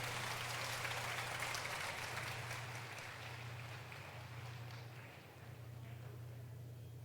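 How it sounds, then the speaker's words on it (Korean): Church congregation applauding the choir and worship team during a service, a dense, steady wash of clapping that fills the whole clip, fading slightly toward the end over a constant low hum. "Please give them a round of applause again."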